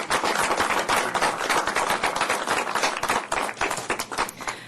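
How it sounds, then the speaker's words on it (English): Loud, close applause from the audience at a city council meeting, dense overlapping claps with sharp individual hands prominent, continuing steadily throughout. "Let's give a great round of applause for all of you."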